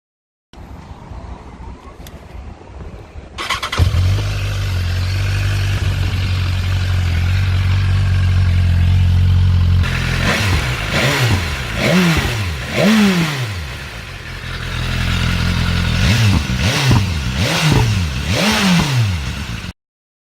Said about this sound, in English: play a clip of the stock exhaust and do a cold start on it and let you listen to a couple revs